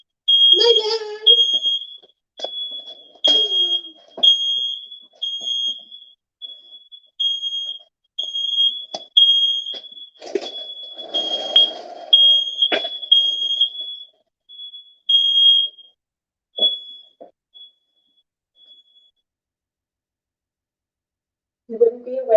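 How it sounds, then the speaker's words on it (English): A smoke alarm sounds close by in rapid, repeated high-pitched beeps from a detector directly below, with a person talking and exclaiming over it before it falls silent near the end. "And I just realized I'm above my smoke detector."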